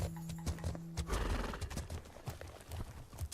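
Horse neighing and hooves clopping in the video game The Legend of Khiimori, a loud whinny at the start followed by steady clip-clop footfalls close by, with a brief held tone underneath.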